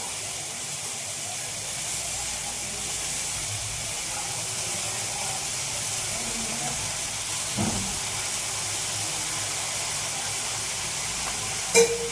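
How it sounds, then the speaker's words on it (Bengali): Potatoes fry in a pan over a low gas flame, giving a steady, soft sizzle and hiss throughout, broken by a faint knock midway and a sharper tap near the end. "এই আলু ভাজাটা গ্যাস কম করে বসিয়ে দিয়েছি"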